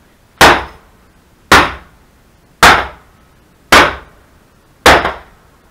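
A sledgehammer smashes a laptop with five loud, sharp impacts spaced about a second apart, each crack decaying quickly. No one speaks.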